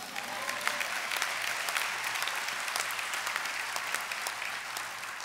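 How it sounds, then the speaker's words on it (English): At the NYU Wagner 2023 convocation, the audience breaks into sustained applause, a broad field of many hands clapping with sharp individual claps and a few cheers rising above a steady, moderately distant wash. "You can clap for that."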